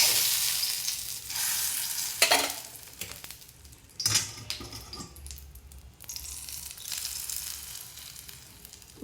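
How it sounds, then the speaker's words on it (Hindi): Hot tadka (tempering) poured into kadhi, giving a bright, crackling sizzle that surges in a few loud bursts and then settles into a softer hiss, with occasional clinks of a spoon and no talking. "तड़के को डालते हैं हम।"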